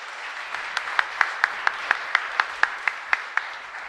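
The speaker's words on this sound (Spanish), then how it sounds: "Aplauso para ellos." A church congregation in Asunción applauds the choir, a soft bed of clapping marked by a steady rhythmic beat of sharper claps, moderately distant and fairly quiet.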